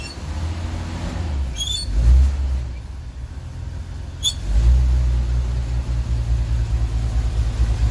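An old car engine with the choke pulled out catches after a brief cranking attempt, stumbles, then fires up and settles into a loud, steady low rumble close by.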